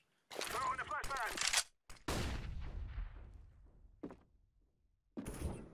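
Gunfire in CS:GO Wingman comes as loud bursts of rifle shots, one long volley followed by a heavy boom with a decaying tail, then a short shot and another burst, with a brief voice in between.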